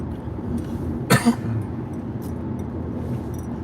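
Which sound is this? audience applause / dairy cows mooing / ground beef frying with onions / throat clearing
throat clearing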